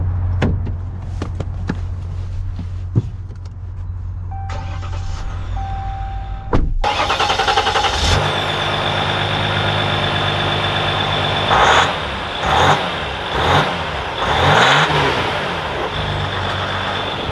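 A 2021 Ram 1500 Rebel EcoDiesel pickup truck is heard close up. A few clunks come first, then the diesel engine cranks and starts, settling into a loud, steady rumble with slight swells as it runs.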